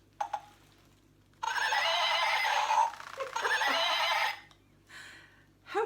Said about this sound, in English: I've got a little horse. It's got a remote control with it.